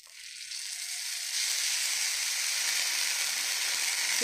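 Dosa batter fries in oil on a large pan, a steady bright sizzle that starts at once and swells a little louder after the first second, holding close and even with no talk.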